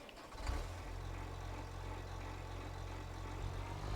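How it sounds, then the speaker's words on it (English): A farm vehicle's engine in Farming Simulator 25 runs at a steady, moderately loud drone, its low rumble holding even throughout with a slight bump near the start. "Love the sound of this engine."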